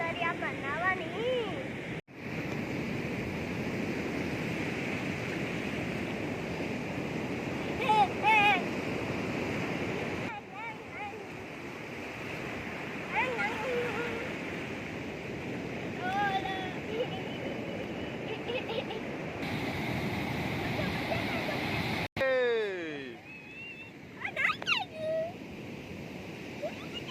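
Sea waves wash onto the beach at Maktupur in a continuous surging roar with gusts of wind. Voices call and shout over the surf now and then.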